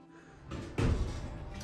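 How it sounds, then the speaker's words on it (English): A door shuts in a basement laundry area near an elevator, giving one solid, fairly close thud that is followed by a brief low rumble and then quiet room tone. "the door just shut"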